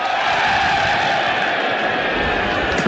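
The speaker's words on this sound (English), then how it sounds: "Crowd enjoying themselves" A large crowd at an England v New Zealand Test cricket match cheers and chants in a steady, loud roar throughout, with faint voices mixed into the din.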